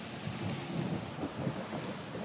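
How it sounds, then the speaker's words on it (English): A thunderstorm with heavy rain in Estevan: a steady roar of downpour with low rumbling thunder underneath, close and full throughout. "Lightning and thundering and everything else."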